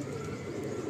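A soft, continuous low cooing from Mundi Sada pigeons kept indoors, fairly quiet and steady, with a hazy background hum.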